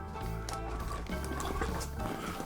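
Black Rock Crafted pale ale pours from a bag-in-a-box into an open container, a steady close liquid gurgle and splash running throughout with small drips.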